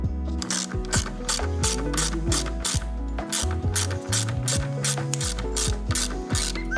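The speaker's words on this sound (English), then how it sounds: "put in the 4 bolts and then tighten these down so that it stays in place" A hand ratchet tightens the bolts holding a guide tool onto the airbox of a Raptor 700R, its rapid pawl clicks coming in repeated close bursts with short pauses between strokes.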